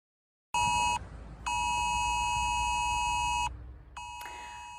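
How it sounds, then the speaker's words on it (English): A UK government emergency mobile phone alert tone: loud, piercing electronic tones in three bursts separated by brief gaps, the middle burst the longest, with no talking. "if you hear a loud noise coming from your phone in a few weeks' time and it starts vibrating, do not be alarmed"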